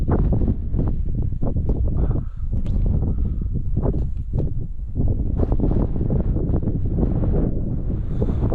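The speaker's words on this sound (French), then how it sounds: "le vent vient derrière moi" Strong, gusty wind from an approaching thunderstorm gust front roars steadily across an outdoor microphone, a loud, continuous buffeting rumble with brief dips between gusts and no talking.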